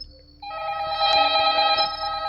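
A telephone rings in a Roblox shawarma truck horror game, a steady electronic ring that starts abruptly and continues loud and close to the end.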